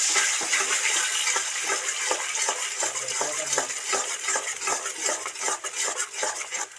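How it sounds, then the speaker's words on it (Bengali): Egg with a sprinkle of salt fries in a pan and is stirred and broken up, with repeated close scraping and clinking of a utensil over a soft sizzle. No voices. "হ্যাঁ সামান্য একটু নুন ছড়া দিয়ে ভালো করে নেড়ে চেড়ে কুচো কুচো করে ভেজে নেব"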